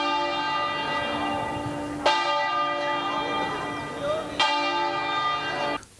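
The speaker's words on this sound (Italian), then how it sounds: "Tutte le chiese della diocesi hanno suonato le campane a lutto" Church bells in Treviso toll in mourning, a dense ringing wash of overtones with two fresh strikes about two seconds apart and no talk over them.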